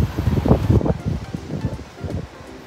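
Strong gusty wind in Kundasang, Kota Kinabalu, Malaysia buffets the microphone in rough, low rumbling bursts, rising and falling close up with no voices.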